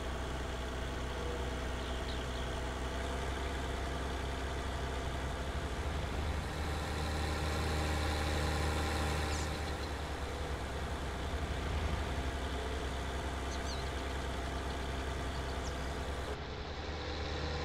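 A tractor engine idles in Farming Simulator 19 with a steady, deep diesel rumble that runs continuously and loud with little change.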